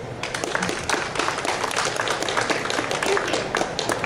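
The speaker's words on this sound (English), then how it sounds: "let's hear a round of applause for Mika Wheelwright" Steady, full applause from an audience at a pet industry trade show talk, dense clapping filling the room for about four seconds without a break.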